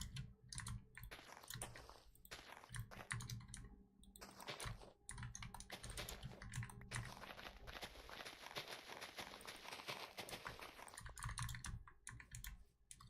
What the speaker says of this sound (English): I also gotta get noise suppression fixed so you guys don't have to hear my keyboard all day